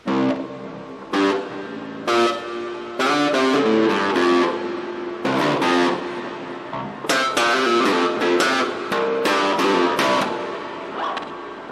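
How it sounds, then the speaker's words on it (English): A heavily distorted electric bass, run through a TASCAM DP-24/32 recorder's internal distortion and reverb effects, plays loud, chunky notes and chords in bursts, with a reverb wash trailing after each phrase. "you should hear both the guitar amp, the distortion, and it should reverb it with the distortion"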